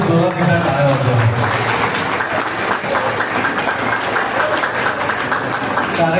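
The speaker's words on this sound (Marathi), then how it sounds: "सर्वांनी जोरात एकदा टाळ्या वाजवा." A crowd at a gathering of the Vasai disability service association applauds loudly to welcome the guests and the chairperson. The clapping is dense and sustained, with a voice heard at the start.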